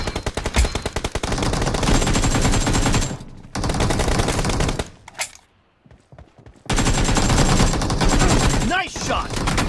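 Rapid automatic gunfire from the mobile shooting game Battlegrounds Mobile bursts loudly and continuously, pauses into near silence with scattered faint shots, then resumes as sustained heavy rattling fire.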